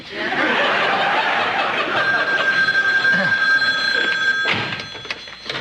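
A telephone rings at a small country inn, a bright sustained electronic bell tone that carries through a few seconds beneath laughter and room noise.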